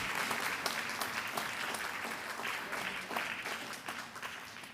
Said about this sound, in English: Give her a better clap than that, in fact.